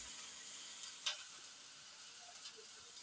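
Onion sizzling in a hot pan for noodles, a steady bright frying hiss with a brief louder crackle burst near the start and small pops after, close and alone.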